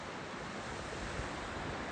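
Ocean waves wash onto the shore at Cape Chignecto, Nova Scotia, a loud, close, continuous roar of surf with wind buffeting the microphone.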